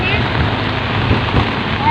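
Steady rain from a typhoon hisses continuously outdoors with some wind noise buffeting the microphone, a dense, even wash of sound throughout.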